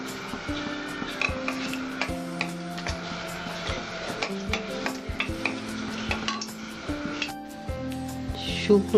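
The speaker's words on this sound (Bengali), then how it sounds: "শুকনো লঙ্কা আর সর্ষে আমি ফোড়নে দিচ্ছি।" Dried red chillies and mustard seeds sizzle and crackle in hot oil in a kadai, with steady frying hiss, sharp popping seeds and the tap of a stirring spoon against the pan.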